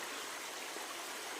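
Spring water flows steadily through a forest, a soft continuous rushing wash heard faintly and alone.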